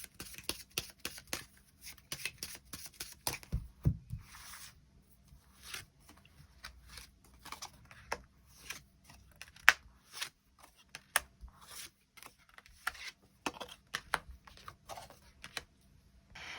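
Tarot cards shuffled and drawn one by one for a weekly reading: close, dry papery clicks and soft riffles in irregular bursts, with no voices over them.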